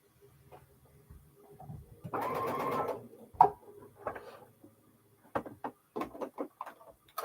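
A home sewing machine stitches quilt blocks in bursts: a dense mechanical whir for about a second, then shorter runs and scattered clicks and taps nearby, with no talking.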